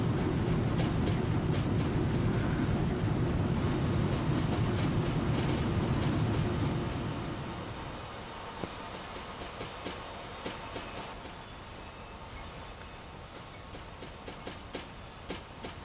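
A steam locomotive hauling freight through snow in SimRail, a steady heavy rumble and hiss that eases to a quieter rolling clatter with faint rhythmic wheel clicks partway through.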